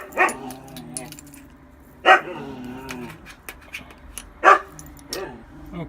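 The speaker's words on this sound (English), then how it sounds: "those are my dogs in the background" Dogs bark in the background of a room where a vibratory tumbler runs, three or four sharp, fairly loud bark bursts spaced a couple of seconds apart over a low steady hum.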